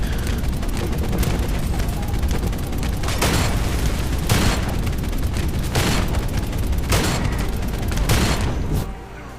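Dense, continuous gunfire in a shooter video game, loud and relentless, with heavier bursts punching through every second or so before it cuts off abruptly at the end.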